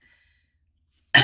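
A single sharp, close cough bursts out after a second of near silence.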